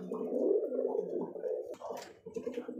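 Pair of fancy pigeons cooing at a breeder's farm, low rolling coos close by and fairly steady, with a brief rustling pause before the cooing resumes.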